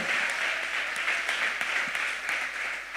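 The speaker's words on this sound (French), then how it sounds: "On acclame bien le Seigneur pour sa parole" A church congregation claps steadily in sustained, dense applause, filling the room evenly for the whole moment with no speech over it.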